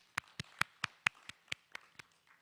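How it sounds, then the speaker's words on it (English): About ten sharp, evenly spaced single claps from one pair of hands during a Janmashtami class at Bhaktivedanta Manor, close and crisp with quiet between each. "I'd like to give a clap to that"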